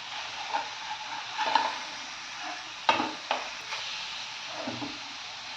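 Chicken pieces cooked in butter are flipped in a hot pan over high flame, giving a soft continuous sizzle punctuated by scrapes and clinks of a spatula against the pan.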